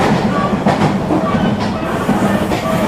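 A passenger train rolls along the rails, giving a loud, continuous rumble with rhythmic clickety-clack thumps from the wheels and carriages, heard from inside the carriage.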